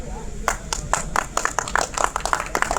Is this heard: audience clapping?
yes